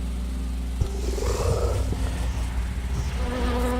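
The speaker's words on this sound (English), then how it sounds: "your first ability is Swarm of Flies" In a video game pet battle, the Swarm of Flies ability plays as a buzzing insect drone mixed with a rumbling roar, loud and dense under steady game background sound, with a sharp click near the start and no talking.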